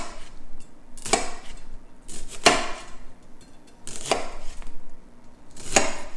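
A knife cuts repeatedly into an onion on a cutting board, four crisp slicing strokes spaced about a second apart, each ending in a knock on the board, close and clear with no talk.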